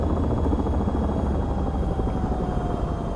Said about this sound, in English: Anyways, that's the helicopter.